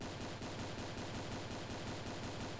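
Rapid automatic gunfire from the video game Island Royale, a dense steady rattle of repeated shots that fills the whole stretch without a pause and with no talk over it.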